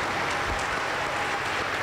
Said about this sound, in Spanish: lo recibimos con fuerte aplauso para el Señor Jesús